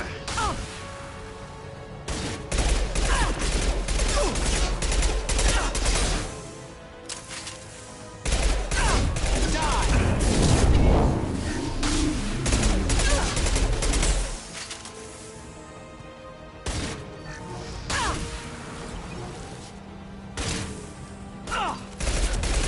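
Gunfire in the Mass Effect 2 video game, heavy sustained volleys with rapid bursts, crashes and whooshes, dense and loud, then thinning to scattered sharp shots, with talking heard among the combat.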